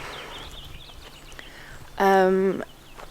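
Quiet background, then a single loud, drawn-out squawk from a chicken nearby, lasting about half a second.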